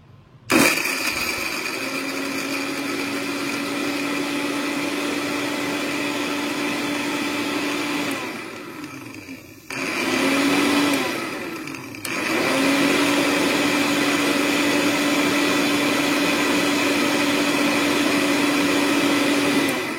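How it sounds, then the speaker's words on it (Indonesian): A Philips electric blender whirs steadily, cuts out briefly twice, then restarts and keeps running at a constant high-pitched drone. "pastikan untuk mengunci sampai terdengar bunyi agar mesin blendernya bisa bekerja"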